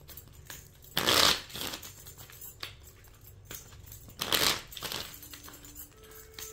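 Tarot cards shuffled by hand in two short, dense rippling bursts, with quieter card handling and light taps between them, all close up with no voices.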